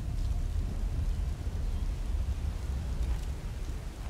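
Steady dense rain with low rumbling thunder from the video game Tomb Raider Underworld, a continuous loud wash throughout with no talking.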